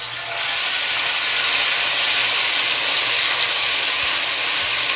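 Ginger garlic paste hitting hot oil in a pan while cooking dahi chicken fry, giving a loud, steady hiss and sizzle that starts abruptly and continues evenly throughout, with no talking.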